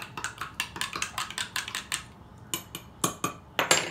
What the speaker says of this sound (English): I'm gonna stir this back up.